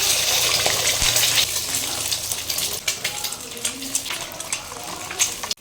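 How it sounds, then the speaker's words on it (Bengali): An egg fries in hot oil in a home kitchen, producing a loud, close, continuous sizzling hiss that eases slightly partway through and cuts off abruptly at the end. "তেলটা এখানে গরম হয়ে গেছে, এখানে আমি আগে ডিমটা ভেজে নিচ্ছি।"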